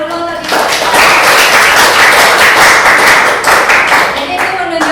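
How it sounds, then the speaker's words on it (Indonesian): Students in a classroom break into dense, loud group clapping that swells quickly and holds steady for several seconds before tapering off, with a voice briefly heard at either end. "Kita kasih tepuk tangan dulu terlebih dahulu"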